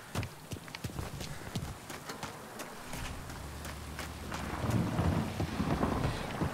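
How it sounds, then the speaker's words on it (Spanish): Rain pattering steadily with sharp cracks and a low rolling rumble of thunder that swells toward the end, no voices. "Está lloviendo, coño."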